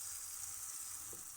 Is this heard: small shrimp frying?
yes